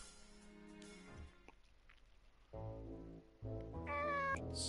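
A cat meowing in the video game Nights of Azure, several drawn-out meows of varying pitch over quiet background music, the last one rising higher and louder.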